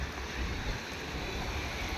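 Water flowing through a flooded rice paddy field, a steady, close wash and rush of water mixed with outdoor wind noise, continuous for the whole stretch with no talk.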